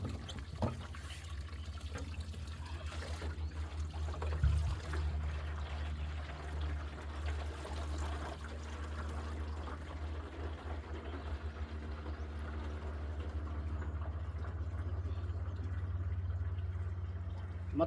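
Water pours steadily into a container as it is fetched and filled, a continuous close splashing rush that runs for the whole stretch with little change.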